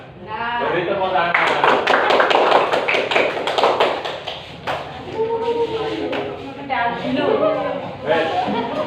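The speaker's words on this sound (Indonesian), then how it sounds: "Beri tepuk tangan." Classroom audience clapping in a burst of applause, with laughter and talk mixed in, the clapping strongest early and tapering into voices.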